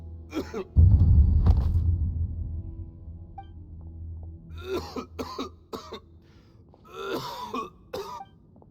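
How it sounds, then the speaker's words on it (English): A man coughing and clearing his throat, a heavy rough burst near the start followed by several shorter, sharper coughs spaced out later, close and fairly loud against a quiet low rumble. "Why is he coughing so much?"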